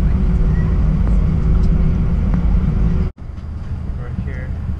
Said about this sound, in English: We're here on the airplane.